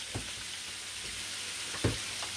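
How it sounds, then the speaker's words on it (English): Sausage sizzles and fries steadily in a hot pan as a casserole is prepared, with a few soft stirring or scraping knocks over the constant crackle. "Let's give our sausage a flip."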